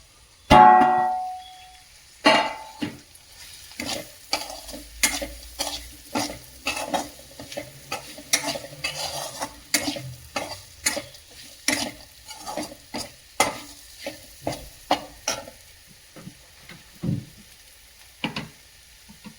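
Chili powder and garam masala stirred and frying in a pan for paneer masala: a utensil scrapes and clinks against the pan in steady repeated strokes over a soft, continuous sizzle, close and clear.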